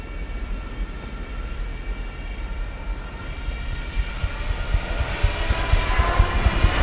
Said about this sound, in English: those German planes coming in that we hear in the trailer